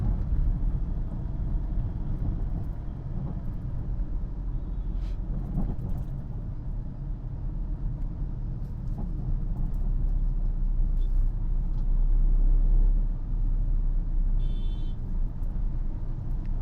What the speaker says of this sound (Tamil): தேர்ட் கியர் 30 கீழே போகிறதுனால சவுண்டு மாறுது.